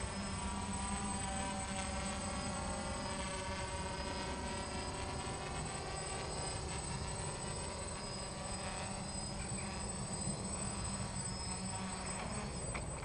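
A DJI F550 hexacopter drone with a Naza M v2 controller flies outdoors, giving a steady, faint buzzing whine of its motors that continues without a break.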